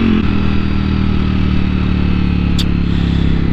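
Ducati Multistrada V4S motorcycle with a V4 engine running steadily at close range, a continuous loud mid-pitched drone with a brief sharp tick partway through, no talk.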